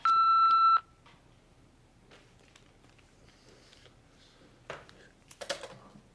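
A single loud, steady electronic beep at the start, lasting under a second, marks the end of an exploration group's voicemail greeting, followed by quiet room tone and a few faint clicks and rustles.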